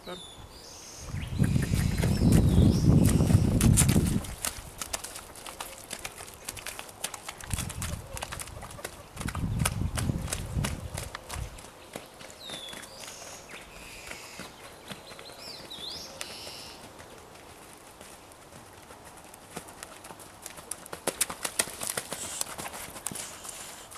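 Hooves of a young colt clip-clopping in a steady rhythm, with bursts of heavier low rumble in the first half and talk in the background.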